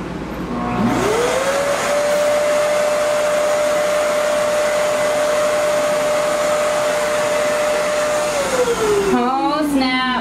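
Touchless EyeVac stationary vacuum runs steadily and loudly, a rising whine that holds level as swept cat litter is drawn in through its base, then winds down at the end.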